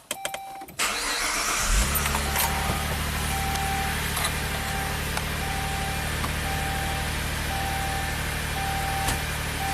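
A Saab car engine cranks briefly and catches, then settles into a steady, even idle that carries on close by, with no one talking.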